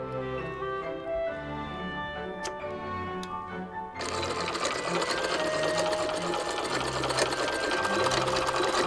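An old sewing machine runs steadily, its rapid mechanical stitching whir growing louder and busier partway through, with background music underneath.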